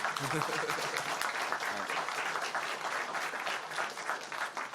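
Steady applause from a crowd, dense clapping that fills the whole stretch at an even, fairly loud level.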